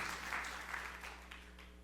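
Applause from a church congregation during a sermon, a steady dense clatter of many hands clapping that holds through the whole moment with no talk over it.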